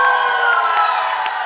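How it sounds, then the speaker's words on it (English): A large audience at a university closing ceremony bursts into sustained applause mixed with cheers and whoops, loud and dense throughout without a break. "Please welcome them with a huge round of applause"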